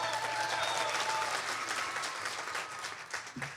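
A seated audience at an off-grid living talk gives sustained applause, dense and even, with faint tones and murmurs underneath, tapering slightly toward the end.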